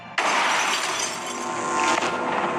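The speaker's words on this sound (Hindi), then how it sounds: "अचानक धड़ाम की जोरदार आवाज आई" A loud, sudden glass-shattering crash sound effect that bursts in and sustains as a dense wash of breaking shards for over two seconds, standing alone without speech.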